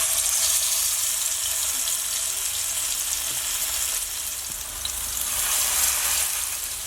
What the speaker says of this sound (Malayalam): ഞാൻ ഇപ്പോൾ 2 എണ്ണം മാത്രമേ ഇപ്പോൾ ഫ്രൈ ചെയ്യുന്നുള്ളൂ.